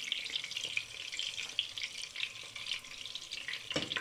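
Frikadellen (German meatballs) frying in a pan after being turned to brown the second side, giving a steady close crackling sizzle with faint spattering and no talk.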